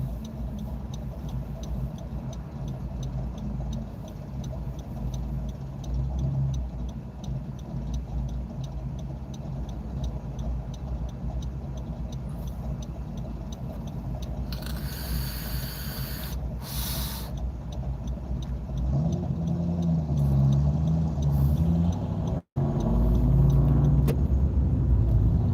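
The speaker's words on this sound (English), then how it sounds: "I'm kind of in the worst part of the traffic here." Traffic in San Antonio, Texas during a storm surrounds a moving car as a steady low road rumble and hiss, with a brief spray-like swoosh midway and louder engine rumbling near the end.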